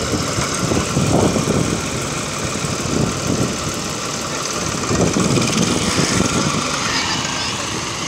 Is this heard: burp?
no